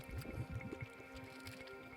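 Geothermal boiling pools in Iceland bubbling and plopping, a quick irregular series of soft gloopy bursts close by over a low steady hum, with no talk.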